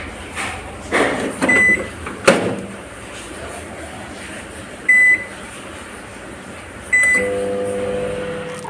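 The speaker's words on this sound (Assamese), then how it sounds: "এতিয়া এইখিনি মই 10 মিনিটছৰ কাৰণে মই দি দিম অভেনত" An oven hums quietly in a kitchen while a mango sweet bakes, with several short electronic beeps and a click or two of a door or panel over the low running drone.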